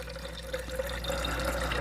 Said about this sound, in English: Just getting a little bit of water here.